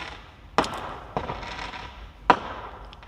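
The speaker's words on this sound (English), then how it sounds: "someone playing firework outside." Fireworks go off outside in three sharp, moderately distant cracks spaced about a second apart, each trailing a brief crackling echo over faint background noise.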